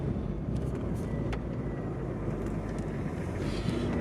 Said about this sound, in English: The actual driving in the snowbank that the snowplow made.